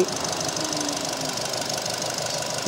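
A 2005 Nissan Note engine idles with the bonnet open, a steady close mechanical hum with a fine ticking texture running evenly throughout, no talk over it.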